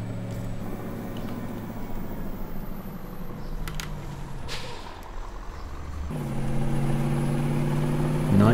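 A lorry engine in Farming Simulator 19 idles with a low steady rumble, briefly dipping before revving a little louder toward the end, with faint hissing puffs.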